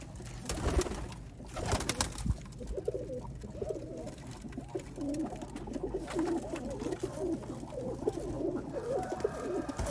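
Black-faced Sialkoti pigeons keep up a steady, layered cooing close by, with fluttering rustles early on and no one speaking.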